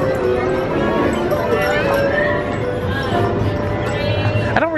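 Horses at Disneyland clip-clop along steadily amid a busy crowd, with hoofbeats mixed into a constant wash of chatter and park noise.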